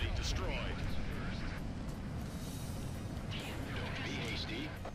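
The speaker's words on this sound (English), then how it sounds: "Enemy facility destroyed." Explosions and gunfire rumble loudly and continuously as an enemy facility is destroyed in the Ace Combat 4 jet combat game, a dense low roar with bursts on top and a voice talking over it.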